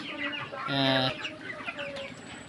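A chicken clucks close by in a short burst of harmonic calls, with other birds clucking and murmuring faintly in the background.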